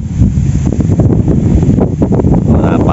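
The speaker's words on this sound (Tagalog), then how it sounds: "Napakalakas pa rin ng hangin, gumagalaw yung tubig eh." Strong wind buffets the microphone at sea during a fishing trip, a loud, continuous roar with gusting rumbles and faint splashing water beneath.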